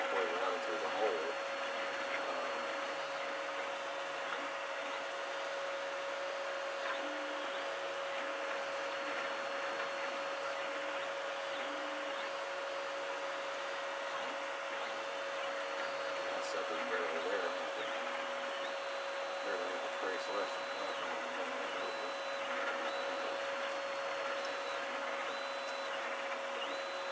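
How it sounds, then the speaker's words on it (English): A 3D printer runs continuously nearby, giving a steady whirring hum with a constant pitched tone and faint mechanical shuffling throughout, without pauses. "listening to printer noises the whole time"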